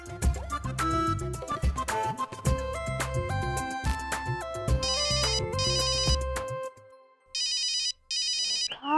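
A melodic phone ringtone plays a looping tune, then switches to bursts of repeated electronic trilling rings separated by short pauses.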